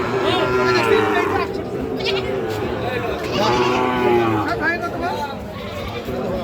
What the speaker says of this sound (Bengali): কাস্টমার ছাগল নিয়ে যাচ্ছে হাটে বিক্রি করার জন্য